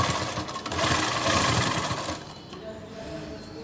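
A sewing machine runs steadily while stitching a kurti strap, a loud, continuous fast whirring that eases off after about two seconds as the stitching slows.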